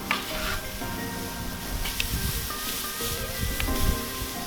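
Pork chops sizzle on a Weber kettle grill over hickory wood smoke, a steady crackling hiss with scattered pops and faint scraping, close and continuous with no talk.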